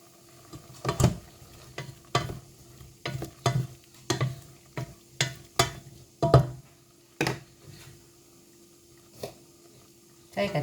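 Garlic added to a frying pan of pork offal is stirred with a utensil, making a series of irregular scraping and tapping strokes over a light background sizzle, with brief quiet gaps between strokes.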